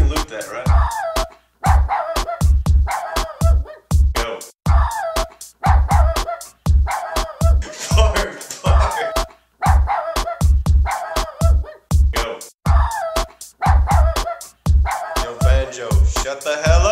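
A dog barks loudly and rapidly in steady repeated bursts, falling into a regular looping rhythm with short gaps between phrases.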